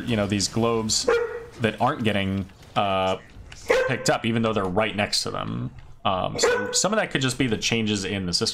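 A dog barks intermittently in the background, sharp near yips and woofs breaking through continuous close talking throughout.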